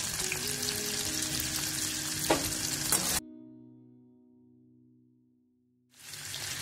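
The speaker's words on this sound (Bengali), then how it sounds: "দেখুন আমাদের মোটামুটি কপিগুলো ভাজা হয়ে গেছে" Cauliflower florets sizzle steadily in oil in a pan, with a pinch of turmeric added, as they are stirred close up for about three seconds. The frying then cuts to near silence before the sizzle returns at the end.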